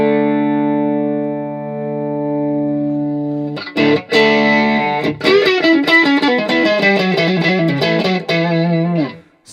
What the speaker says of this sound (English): If you want to, we can add a tube screamer.